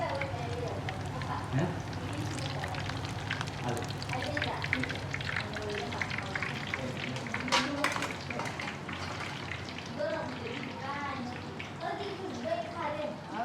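Potato puri fries in hot oil, a continuous bubbling sizzle that runs throughout with someone talking over it.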